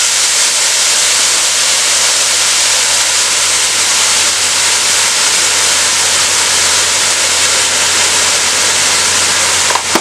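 Onions sautéing in hot oil with salt for Malabar fish biriyani, a steady, loud sizzling hiss that runs unbroken throughout.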